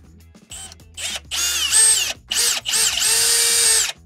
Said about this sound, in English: drill my 1/4 inch hole